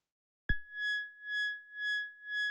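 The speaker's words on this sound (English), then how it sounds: "That is our sine wave, that is LFO with the sine wave modulating cutoff frequency of the filter" A VCV Rack modular synth note whose filter cutoff is swept by a sine LFO, producing a steady pure tone that begins abruptly after silence and swells and fades in a slow, even wah-like pulse about twice per second.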